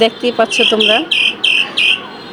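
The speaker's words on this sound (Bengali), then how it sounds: "ছাদে তো পাখির আওয়াজও হইতেছে" A person speaks briefly on a rooftop, then a bird gives several high, repeated chirping calls in short bursts close by.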